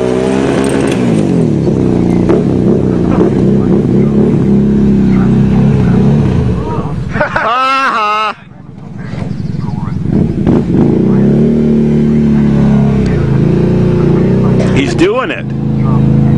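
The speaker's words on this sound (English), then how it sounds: "backwards up Sky Hill on a Can-Am 800 2008" A 2008 Can-Am 800 ATV engine drones steadily while climbing Sky Hill backwards, the tone rising and falling with throttle. A sharp whine-like swell and a brief dip come partway through, with voices heard over the motor.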